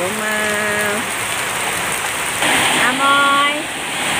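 Rain pours behind a house, a steady, dense hiss on surfaces throughout, while someone speaks at the start and again near the end.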